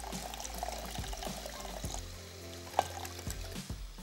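A little water, about a cup, poured into a spiced mixture in a home kitchen, a soft steady trickle with small splashes and a brief clink partway through, fairly quiet and close with no talking.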